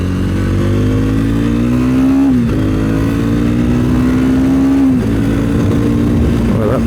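A Triumph Speed 400 motorcycle accelerates hard, its engine note climbing loudly and close, then dipping briefly at two quick gear changes before rising again.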